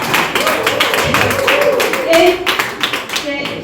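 Audience clapping at a training session, steady rhythmic claps mixed under overlapping voices and chatter, fairly close and moderately loud throughout.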